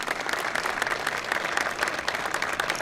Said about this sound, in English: They deserve some applause.